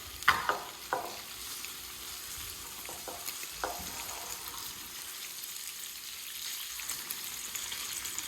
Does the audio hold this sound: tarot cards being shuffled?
no